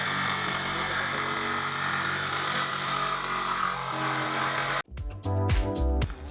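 Power drill boring an 8 mm hole in a van's metal panel, a loud continuous whine and grind for several seconds, then stopping abruptly, followed by a few short knocks and bursts.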